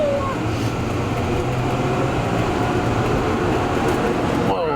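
Theme park ride tram train at Universal Studios Orlando moving fast, a steady loud rumbling clatter of wheels and motion noise, with a brief squealing rise at the end.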